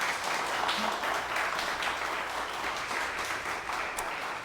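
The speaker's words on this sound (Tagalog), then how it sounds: "Yan pong palakpak para kay Jesus naman." A church congregation claps together in a continuous, even wash of applause that stays loud throughout, with no pauses.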